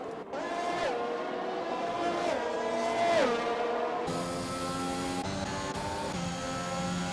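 Race cars run at Hungary in a sim-racing series event. Engines whine close and loud, rising and dropping sharply through repeated gear shifts and braking, with several cars layered together.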